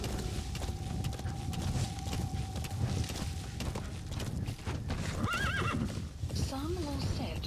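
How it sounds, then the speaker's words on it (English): A horse in the Metal Gear Solid V: The Phantom Pain video game, neighing twice near the end over a steady, continuous clip-clop of hooves, with someone talking throughout. "go left on your horse"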